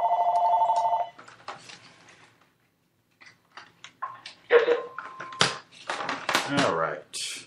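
A telephone rings loudly for about a second during a news broadcast, then stops, followed by close handling clatter and thumps as the phone is disconnected.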